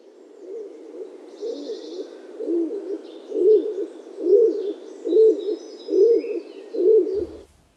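A stock dove gives a steady series of soft, low cooing phrases, evenly spaced and growing slightly louder, with faint birdsong high in the background.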